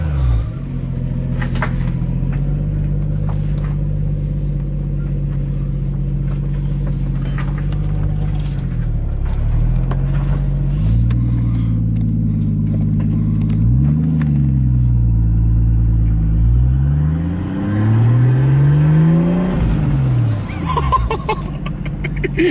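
Straight-piped, turbocharged Toyota Supra on a drive, its deep exhaust drone holding steady and then rising and falling through several revs and shifts, with a turbo whistle and spool audible near the end; no talking.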